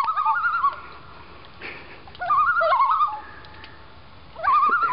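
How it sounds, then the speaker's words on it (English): Two loons calling outdoors in Maine, a series of wavering, yodel-like cries in repeated bursts separated by quiet gaps, fairly close and clear. "there's just two loons. There's one over there, and they're just like yakking it up."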